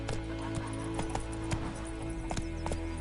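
A horse gallops in The Witcher 3, its hooves clip-clopping in a quick, steady rhythm at moderate distance over a constant background hum, with no speech.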